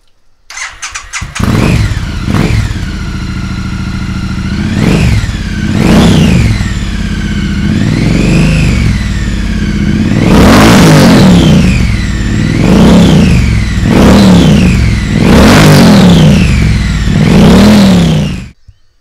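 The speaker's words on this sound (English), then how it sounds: "So this is the bike running without the X-Pipe fitted and TEC slip-on" A Triumph Street Twin motorcycle with TEC slip-on cans, baffles removed and no X-pipe, starts and revs repeatedly, loud close throttle blips rising and falling in a steady idle rumble.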